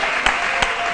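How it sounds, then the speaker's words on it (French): A studio audience applauds a departing guest on a lunchtime TV show, a brief dense burst of clapping with a few sharper individual claps standing out. "va lui dire au revoir avec des applaudissements."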